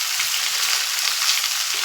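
Vegetable stems, potatoes and salt fry in hot oil in a pan in a dim home kitchen for a shrimp and Malabar spinach dish, giving a loud, close, unbroken sizzle with faint low stirring knocks.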